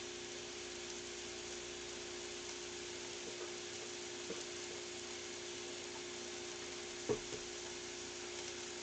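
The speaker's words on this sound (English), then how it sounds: "getting some sizzle going already" Homemade breakfast hashbrowns sizzle in a pan with a steady, quiet hiss, broken by a few faint clinks and one brief knock near the end.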